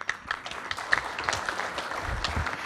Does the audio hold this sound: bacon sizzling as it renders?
no